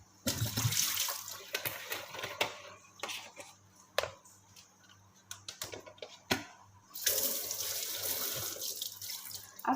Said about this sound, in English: use the warm water to wash the bottle as well